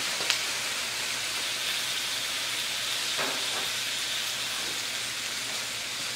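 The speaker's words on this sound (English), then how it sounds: "I still got some chicken frying." A steady, dense sizzle of spicy chicken fingers frying in hot oil fills the whole stretch, with faint crackles and pops scattered throughout.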